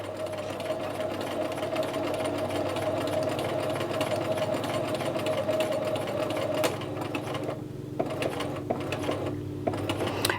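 A sewing machine stitches a flap pocket for McCall's 8031, a steady close hum and rhythmic needle chatter running continuously, with a few brief pauses and clicks near the end.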